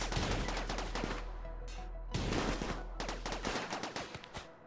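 Rapid gunfire from raiders in the colony game RimWorld, sharp cracking bursts in quick clusters, loud and close, with short gaps before another volley breaks out.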